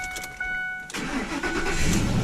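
A 2005 Ford F-150 5.4 Triton V8 cranks over briefly with a chiming tone, then catches and roars to life, settling into a rough, rumbling idle close by.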